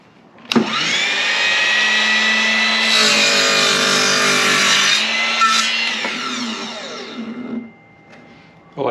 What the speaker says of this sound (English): set the miter saw or the drop saw at 45 degrees and then lock it in place